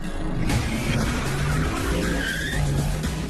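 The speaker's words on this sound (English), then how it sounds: "Once again, Carrie guns it." A car accelerating hard from close by with loud tire squeal and skidding, engine roar and screeching rubber sustained throughout with rising squeal tones.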